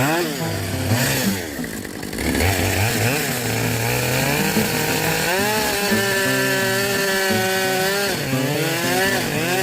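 A large chainsaw cutting into a big tree, engine revving and whining continuously at close range with shifting pitch as the blade bites and the load changes, loud and unbroken.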